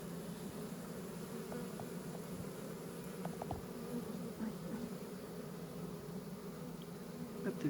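Honeybee buzzing close by near a beekeeper's hand, a continuous steady drone with faint ticks and rustles around it.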